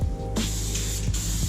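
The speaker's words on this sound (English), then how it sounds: "I'm just gonna go ahead and spray this section right here and then go down and spray the bottom" Appliance epoxy hisses steadily from a spray gun onto a fiberglass bathtub in short continuous bursts, with a brief break in the middle, close and fairly loud, with no one speaking.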